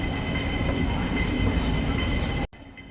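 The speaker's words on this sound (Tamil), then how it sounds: "ஸோ இப்போ தான் ஒரு ட்ரெயின் போகுது," An airport metro train rolls past nearby with a steady loud rumble and rail clatter, cutting off abruptly near the end.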